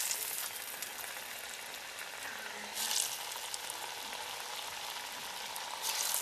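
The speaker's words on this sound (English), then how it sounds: "Here they go. They're going in the fryer." Morel mushrooms frying in a deep fryer, a steady bubbling sizzle of hot oil with brief surges of louder crackle, close and continuous, no voices.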